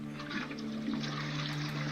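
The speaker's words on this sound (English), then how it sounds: "you just flush the toilet" A toilet flushes in a bathroom of a Swedish apartment in the video game Dream Machine, giving a steady rush of water with a low hum beneath it and no talk.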